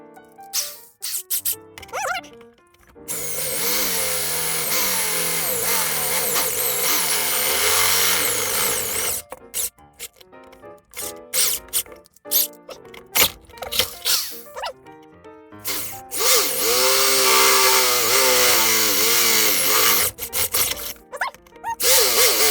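A bigger power drill bores holes during a repair of a Sunn Spectrum 1 amplifier, running in long loud sustained bursts with short gaps and brief stops between them, close up and with no talk.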